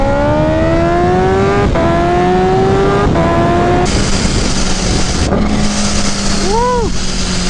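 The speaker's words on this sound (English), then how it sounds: "I went out real quick to just film some rollers and some sound clips of the bike." Kawasaki Ninja H2 motorcycle engine revving loud and close, with a rising whine that climbs and drops in repeated surges, then a sharp blip and fluttering decay near the end over steady engine drone.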